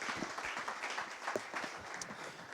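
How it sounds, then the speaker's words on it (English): Applause from an audience at a tech meetup talk on code review and a React-based CMS, steady and moderately faint across the whole stretch, with no voices over it. "Let's give him a round of applause."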